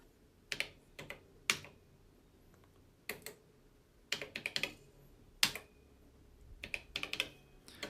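Keys are pressed on Commodore's first electronic calculator, a string of dry, close plastic clicks in uneven bursts of single presses and quick runs with short quiet gaps.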